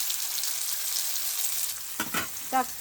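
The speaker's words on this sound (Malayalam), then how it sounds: "ഇത് നല്ലോണം അങ്ങനെ വാട്ടി കൊടുക്കണം കേട്ടോ നല്ലോണം ഇറച്ചിട്ട് വാടി വരട്ടെ" Sliced onions sauté and sizzle in a pan with a steady broadband frying hiss, broken near the end by a few brief stirring scrapes and clinks close by.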